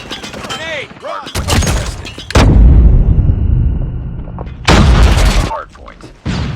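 Grenade blasts in the Call of Duty Mobile shooter, a shotgun-only Hardpoint match: several loud, booming bursts with broad crackling tails, separated by short gaps, alongside gunfire and in-game voice callouts.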